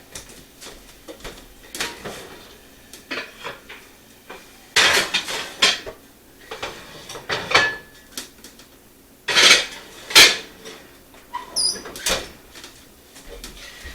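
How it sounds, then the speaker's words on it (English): A cast iron pot and a Corningware pot with lids are loaded into a home oven, making repeated clanks, scrapes and metallic knocks in irregular bursts, with the oven door and rack rattling nearby. "put the pots that the bread's going to cook in the oven to heat for 30 minutes with their lids on"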